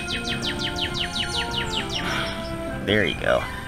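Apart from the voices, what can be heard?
birds chirping outside tent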